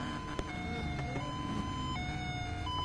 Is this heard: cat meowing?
no